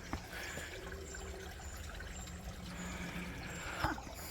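Water trickling and running beneath an old well at a historic pump site, a steady low rushing flow that continues throughout with a brief knock near the end.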